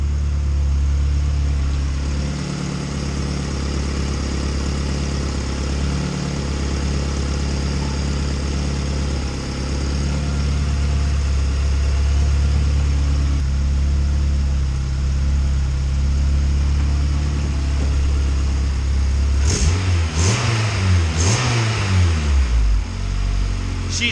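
A turbocharged Honda Civic EK hatchback with a full exhaust and a newly fitted intercooler and piping idles with a steady, fairly muted rumble. Near the end it gives a few quick revs that rise and fall.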